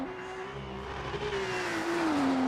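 A race car in an online racing video game, its engine held against the rev limiter in one gear, a steady droning whine with a slight wavering pitch, tire noise beneath it, no voices.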